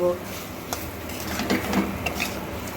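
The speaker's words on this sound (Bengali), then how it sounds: "এবার আমি যে মাথা আর লেজাটাকে ভেজে রেখেছিলাম সেইগুলোকে আমি এর মধ্যে দিয়ে দিলাম দিয়ে ভালো করে নাড়াচাড়া করে একটু মিশিয়ে নেব" Fried hilsa fish head and tail are stirred into curry in a cooking pot with gati kochu, giving soft scraping and clinking of a spoon against metal, moderate and close, with a few brief knocks.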